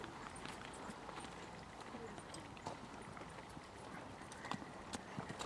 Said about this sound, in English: Number 26, Romeo, ridden by Chelsea Baumgartner for a first hunter round.